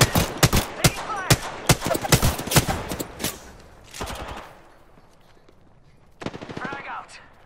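Rapid bursts of automatic gunfire from an Apex Legends firefight crackle loudly for the first few seconds, then fade into a quieter lull before a shorter volley of shots returns near the end.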